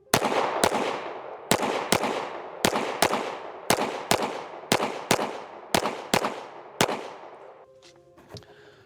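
Eleven sharp shots from a Staccato HD C4X pistol fired at a steady, unhurried pace, each crack loud and close with a short decaying tail, followed by a quiet pause at the end.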